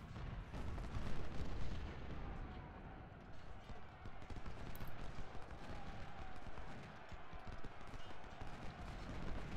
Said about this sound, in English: Some nice Napoleons firing canister into this enemy unit that's meleeing with us